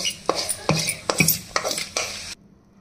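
Dried red chilies, tomatoes and lentils fry in a pan for a chutney, scraped and stirred in a run of close, rhythmic metallic strokes over a soft sizzle, ending abruptly in silence.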